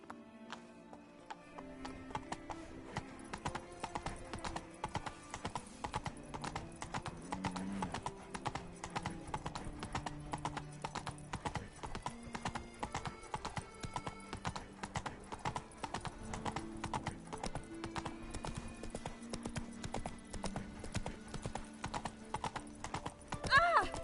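A ridden horse's hooves clip-clop in a quick, steady rhythm of sharp knocks that runs throughout. Music or other background sound plays under the hoofbeats.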